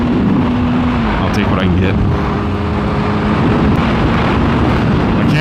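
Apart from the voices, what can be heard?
Yamaha R6 motorcycle riding on highway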